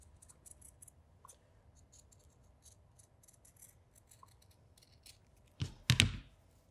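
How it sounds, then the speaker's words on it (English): Scissors cut through fabric to trim the seam allowance on a sewn toy's arm, with faint small ticks before two quick, loud, close snips near the end in an otherwise quiet room. "make sure that you cut that seam allowance dead parallel to that joining line"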